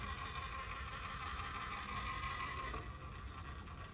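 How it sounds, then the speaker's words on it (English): A TRX4 RC crawler's gearbox whirs and ratchets steadily, a faint, continuous mechanical grinding with a diesel-like rattle heard alone at close range. "something about the TRX4 gearbox. It's got a very diesel-y... It's got a very diesel-y sound."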